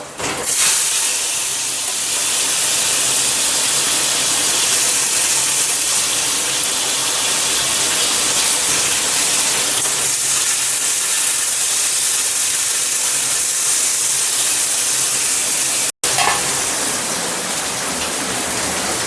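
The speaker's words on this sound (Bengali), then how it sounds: "কড়াইয়ের তেল গরম হয়ে গেছে আলুগুলো এরপর ভেজে নেবো" Potatoes coated in salt and turmeric frying in hot oil in a wok give a loud, steady hiss and crackle that runs almost without a break, with one very short gap near the end.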